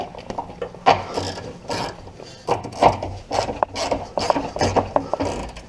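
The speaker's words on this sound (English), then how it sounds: "I'm going to use my little ratchet here, make sure I don't over torque anything." A small hand ratchet clicks in repeated short bursts as it tightens the front sway bar bushing bolts on a 2000 Ford Mustang, close up with no talking.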